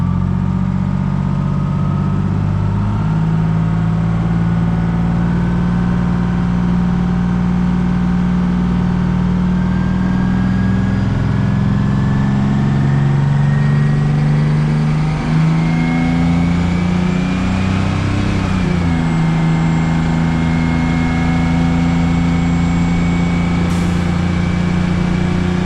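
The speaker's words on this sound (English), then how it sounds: "this lady got her a load of gravel using the John Deere to spread her out" A John Deere tractor spreads a load of gravel, its engine droning steadily and fairly loud for the whole stretch, with slight rises in revs and no talking.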